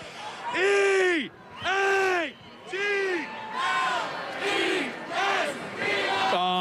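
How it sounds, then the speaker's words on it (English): A huge crowd at the Philadelphia Eagles victory parade chants the Eagles spelling chant, six loud rhythmic bursts of many voices in unison separated by brief pauses, with crowd roar underneath. "the only way we know how to measure crowd size here in Philadelphia is an Eagles chant"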